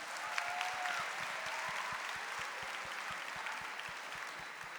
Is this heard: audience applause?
yes